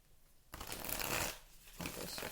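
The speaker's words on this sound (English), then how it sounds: "Let me give it one more shuffle." Tarot cards being shuffled close by, a soft riffling rush that starts after a brief quiet, fades for a moment, then resumes.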